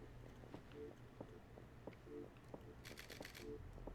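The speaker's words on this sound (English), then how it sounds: "But that shutter's so quiet." A Fujifilm X-T4 mirrorless camera fires its quiet shutter in repeated soft clicks, with a quick burst of several rapid clicks near the end, close up over faint handling noise.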